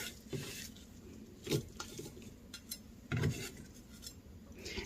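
A knife slices onion into thick pieces on a cutting board, giving a few distinct close thunks spaced irregularly over a quiet kitchen background.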